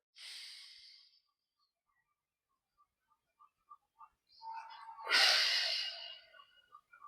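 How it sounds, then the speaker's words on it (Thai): Slow, deep meditation breathing: one long inhale, a pause with faint soft clicks, then a fuller, louder exhale that trails off, close to the microphone and quiet otherwise. "ดึงเข้าออกลึกๆช้าๆนะฝึก"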